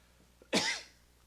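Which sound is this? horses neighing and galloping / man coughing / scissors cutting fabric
man coughing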